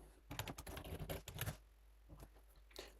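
Quick bursts of typing on a computer keyboard while entering a username and password, soft close clicks in an uneven run that trails off into a few scattered keystrokes, faint and alone.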